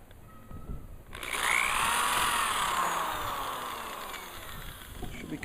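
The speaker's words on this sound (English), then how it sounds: "I'm going to be drilling through." A power drill bores through a wooden longbow, its whine starting abruptly and holding steady and close, then tapering slightly as the bit works through the wood.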